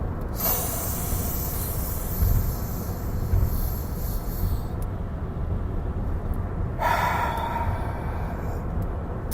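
Deep, hissy breaths are drawn close to the mic during a breath-hold exercise. One comes at the very start and another near the end, with a low steady rumble in between.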